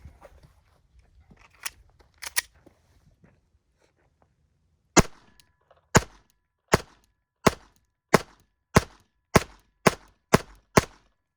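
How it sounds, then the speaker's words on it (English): A Glock 44 pistol fires during a 1000-round torture test, a sharp, evenly spaced string of about nine shots after a few quieter scattered pops and handling sounds, each report crisp and close. "I can shoot it faster than we can reload."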